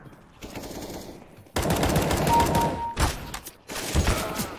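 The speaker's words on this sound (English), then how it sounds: "gunshot." Rapid automatic gunfire from the Fortnite video game rattles out in loud sustained bursts with short pauses between them.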